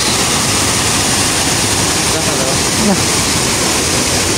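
Mantayupan Falls in Cebu, a 98-meter waterfall, roars as a steady, dense wash of falling water that holds constant and loud throughout.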